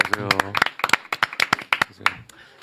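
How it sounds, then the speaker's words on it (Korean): Audience clapping breaking out at a Korean news talk show as a reporter guest is welcomed, a burst of scattered hand claps with a voice speaking over it. "박수로 모시겠습니다."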